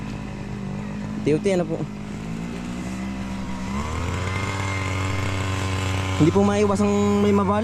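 A grass cutter clears a corn field with a steady motor drone that shifts higher in pitch partway through, while someone talks over the engine.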